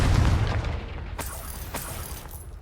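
A Confringo spell blast from Hogwarts Legacy opens with a heavy boom that slowly fades, followed by a few sharp crackling pops that ring out against the dying rumble.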